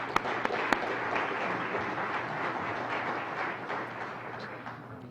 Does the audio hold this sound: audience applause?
yes